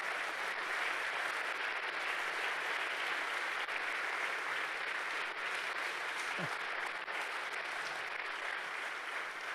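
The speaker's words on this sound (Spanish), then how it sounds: "Den un fuerte aplauso entonces por esa salvación tan grande" A church congregation at an annual retreat gives a strong, sustained round of applause, a dense even clatter of many hands that stays steady throughout.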